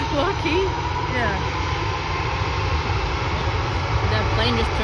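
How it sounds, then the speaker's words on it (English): An Airbus A220 departing Vancouver International Airport for Denver roars steadily in the distance, a constant broadband engine rumble with low-frequency weight, while faint chirping sounds drift over it. "There goes that plane. A220 to Denver."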